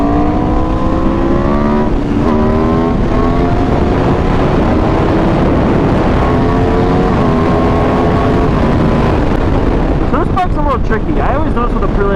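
A 2020 Aprilia 1100 Factory motorcycle revs and accelerates hard for a wheelie, its engine note climbing repeatedly in rising sweeps under heavy wind rush, with a rider's voice now and then.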